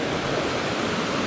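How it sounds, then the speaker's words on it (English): A mountain river in the Adirondack High Peaks rushes along in a steady, loud wash of broadband water noise, continuous and unbroken, with no voices. "The river is flowing."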